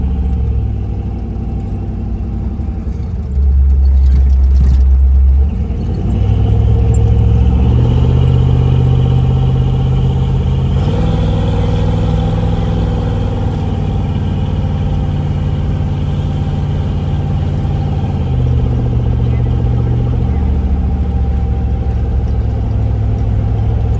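A 1942 GMC 4x4 pickup truck's engine runs loud and close through a drive, a low steady drone that steps up in pitch as it accelerates through gears, with no one talking.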